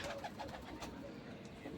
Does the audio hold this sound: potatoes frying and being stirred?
no